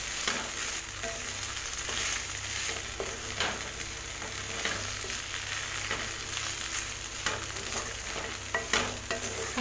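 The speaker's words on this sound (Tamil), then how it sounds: "இன்னும் ஒரு 5 நிமிஷம் இது பண்ணிக்கலாம், வறுத்துக்கலாம்" Sliced okra (lady's finger) frying in a pan over low heat, sizzling steadily with repeated scraping and stirring strokes of a spoon, close and continuous with no voices.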